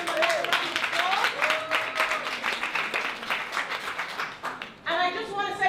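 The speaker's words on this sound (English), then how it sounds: "Let's give him a round of applause." Applause rises from a gala crowd, dense clapping mixed with cheering and voices, then fades briefly before a louder burst of talk near the end.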